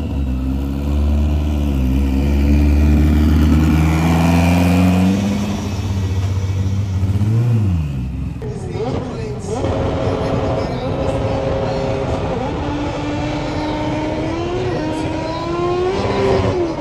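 A high-horsepower drag car engine in the Philippines revs loudly and close, rising and falling in pitch before dropping into a rough, throbbing idle with more surges; a voice may be faintly present.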